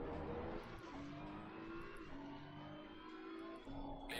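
BMW M4 GT3 race car in a racing video game at COTA, engine note steady and droning, another car running alongside on the left, continuous and moderately loud with no talk.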